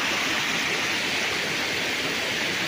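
A river runs beside a farm lot in Siniloan, Laguna, its clear, cold water making a steady, broadband rushing flow that holds close and even throughout, with no voices heard.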